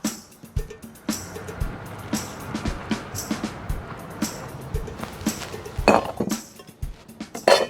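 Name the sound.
bottling homemade sour mix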